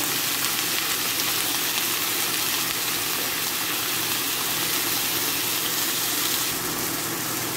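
Ground pork sizzling in a pan with garlic and onion, a steady, loud, hissing fry that holds level throughout.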